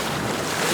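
Ocean surf washing around swimmers off an island, a steady broadband rush of water and wind noise on the microphone, close and continuous for under a second with no talk.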